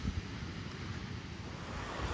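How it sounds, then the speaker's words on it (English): Surf washing onto the beach at Alykes, Zante, a steady broadband roar of breaking waves with some wind buffeting the microphone, continuous and fairly close, with no voices. "Just love hearing the waves."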